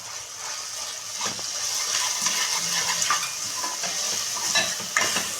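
Ginger garlic paste goes into a pan of fried onion and tomato, giving a soft sizzle and frying hiss with scattered spoon clinks and scraping as the mixture is stirred, close and fairly quiet.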